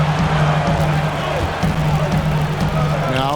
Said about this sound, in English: I like the crowd.